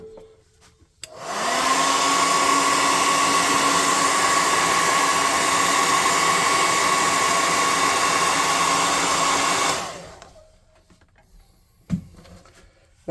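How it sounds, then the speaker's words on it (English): A handheld air gun blows steadily on a freshly painted miniature figure, a loud continuous hiss lasting about nine seconds, then cutting off to near quiet with a single faint knock afterward. "we'll dry him off real quick with the air gun"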